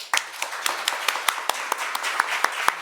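Church congregation clapping for God, heard as a sparse, fairly close run of separate claps at a loose, uneven rhythm, moderately loud and not joined by voices.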